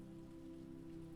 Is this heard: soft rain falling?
yes